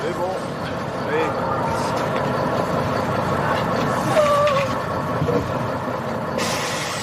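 A tour bus pulls in with a rumbling engine and a hiss of air brakes, heard fairly close, while people talk over the arrival.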